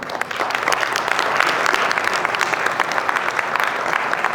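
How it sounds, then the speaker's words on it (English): A seated crowd at a motivational seminar claps in a sustained, even round of applause for a young event organizer, the clapping fairly close and steady throughout, with no speech on top. "I really want you to appreciate and give a round of applause for Jaspreet."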